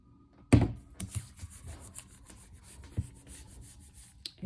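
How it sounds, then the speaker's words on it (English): Paper being rubbed down onto a gelli plate by hand, a sharp contact sound followed by soft, irregular scuffing and rubbing strokes, quiet and close. "Make sure it's flat and rub that really, really well."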